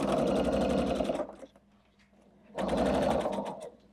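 Sewing machine stitching a quilt seam with a quarter-inch foot, giving a fast, even mechanical whir that runs for about a second, stops briefly, then starts again in a second short burst.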